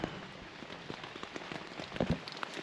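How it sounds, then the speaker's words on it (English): Steady rain patters on a tent on the Appalachian Trail, a dense, close crackle of drops with a few louder taps, with no talking. "It's currently raining."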